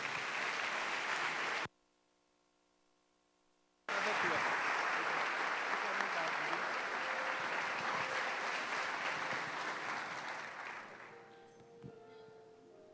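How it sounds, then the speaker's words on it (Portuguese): A church congregation at an evangelical service applauds loudly in a dense, sustained burst, cuts out abruptly for about two seconds, then resumes just as full before thinning and fading toward the end. "Vamos recebê-lo aplaudindo o nome do Senhor Jesus."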